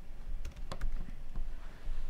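Computer keyboard keys clack in short, scattered bursts, a few sharp clicks close by over a low room background, with no one talking.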